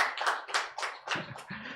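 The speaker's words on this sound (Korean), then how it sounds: "박수 한번 같이 쳐줄까요?" A church youth group claps to welcome three newcomers: a brief, uneven patter of many hands, close and fairly loud, with no voices.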